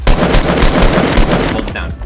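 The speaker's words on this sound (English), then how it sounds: "Aim at him and just shoot him." Rapid automatic gunfire in the video game Fortnite, a loud, dense burst of shots lasting about two seconds, up close and dominating the sound.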